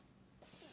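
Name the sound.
cooking spray being sprayed onto a pan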